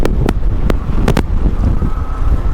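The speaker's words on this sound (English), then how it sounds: "the wind is crazy" Strong outdoor wind buffeting a microphone, loud low rumbling gusts with a few sharp bursts of clipping noise, continuous and close, with no talking.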